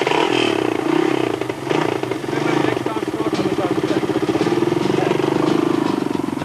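Enduro motorcycles racing off-road at the Winterberg Enduro, 1995, with loud, steady engine drone and revving that rises and falls, plus a narrator's voice talking over it.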